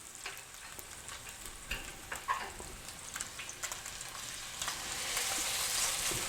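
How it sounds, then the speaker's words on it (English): Salmon fillet searing in a hot pan for a honey ginger balsamic glazed dish, giving a steady close sizzle that grows slightly louder toward the end, with scattered small pops and crackles and no talking. "We're going to gradually get that sear on that show side."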